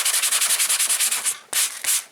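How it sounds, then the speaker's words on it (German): A guitar pick being sanded with a coarse sanding sponge gives rapid, rhythmic scratchy rubbing strokes, close and steady, then a pause and two final strokes. "dann werde ich erstmal mit einem gröberen Schleifschwamm anfangen"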